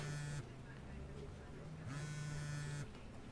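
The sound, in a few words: phone ringing or vibrating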